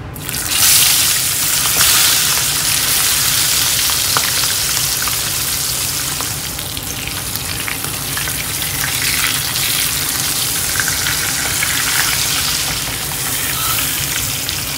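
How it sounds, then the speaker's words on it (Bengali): Hilsa fish frying in a pan of oil, a loud, steady sizzle that runs unbroken for the whole stretch with no voices over it. "এদিকে ইলিশ মাছটা ভাজছি।"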